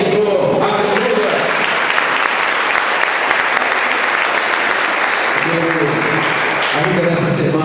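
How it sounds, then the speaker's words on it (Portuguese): A church congregation applauding together, loud dense clapping that fills the space without pause, with voices mixed in near the start and end. "que toda a igreja de Deus diga amém e aplauda o Senhor"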